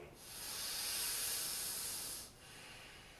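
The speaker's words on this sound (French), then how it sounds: "Une respiration profonde." A single long, deep breath taken during a yoga warm-up, a steady airy rush lasting about two seconds, close and fairly quiet, followed by a softer trailing exhale.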